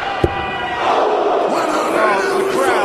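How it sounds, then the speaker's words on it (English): Crowd at a 2013 world darts championship quarter-final, Taylor versus Pipe, roars and cheers loudly and continuously after a run of maximums, a sustained wall of voices with a sharp thud near the start. "The crowd are absolutely loving this one."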